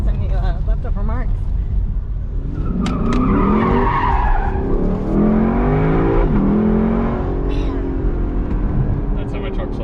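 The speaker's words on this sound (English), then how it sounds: "that helps with making nice, good, even burnouts like that" A 2022 Lexus LC 500 convertible does a burnout, its tires squealing in a long wavering screech over the revving engine, loud and close, with people talking at the start.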